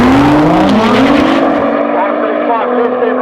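Two Nissan GT-R R35 cars at a drag racing event, engines roaring loud and close with rising and falling harmonic pitch sweeps, under a commentator's voice over a busy crowd.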